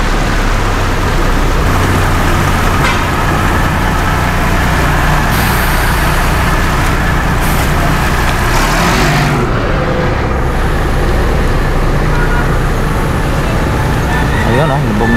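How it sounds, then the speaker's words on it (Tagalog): Heavy vehicles, buses one after another, rumbling loudly through floodwater on Aguinaldo Highway in Bacoor, with steady traffic and water wash throughout and people talking over it. "Ayan mga boss, sunod-sunod yung mga buses."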